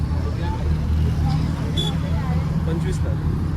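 Heavy Sunday road traffic with many vehicles makes a continuous rumble of engines and passing cars near a temple, beneath crowd babble and people talking.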